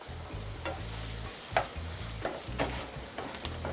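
Homemade lean chorizo frying in a little oil, a steady low sizzle with occasional scraping stir strokes from a utensil, close and moderately quiet, no talking.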